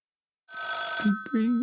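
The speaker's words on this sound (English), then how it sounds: "Isn't it handy we happen to have a old-fashioned phone that makes this sound?" An old-fashioned telephone bell rings, loud and close, in a sustained metallic trill, and a voice follows right after it.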